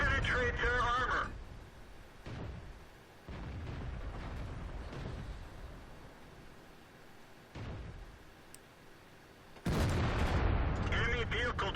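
Tank cannon fire in the video game CIM2 (Call to Arms mod), heavy booming shots and blasts, a loud one near the start and another near the end, with rumbling battle noise between.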